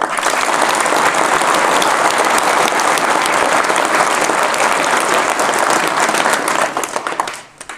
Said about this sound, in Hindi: तो एक बार मेरे इस भाई के लिए भरपूर तालियाँ।